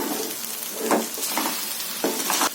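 Creamy potato masala stirred in a hot pan, a dense continuous sizzle with soft scraping strokes of a spoon rising and falling, close and fairly loud, no voices.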